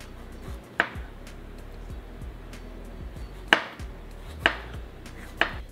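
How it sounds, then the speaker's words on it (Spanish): A knife slicing fresh strawberries into small triangles on a cutting board, four sharp chops at uneven intervals with quiet pauses between, close and distinct. "Yo mis fresas ya las lavé y las desinfecté y las voy a cortar así, miren, en triangulitos."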